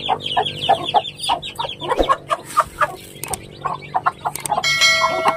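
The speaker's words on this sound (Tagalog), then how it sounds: "So ayan, nandito sila mga kasiken. Subukan natin bigyan ng patuka." Backyard chickens with young chicks cluck and chirp busily while being given feed, a dense run of short, close calls over a constant low hum, with a brief metallic ring near the end.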